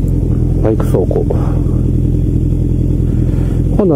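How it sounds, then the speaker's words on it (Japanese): A Kawasaki Zephyr 1100 motorcycle being ridden, its engine rumbling loud and steady with wind noise, brief rising pitch sweeps as it revs. "バイク走行。"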